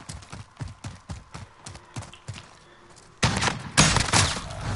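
Horse hooves in the video game Call of Duty beat out a rhythmic, fairly close clip-clop, then give way to a loud, dense burst of gunfire and impacts near the end.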